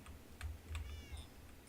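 A Minecraft cat gives a few short, faint meows in quick succession over low background hum, with no talking.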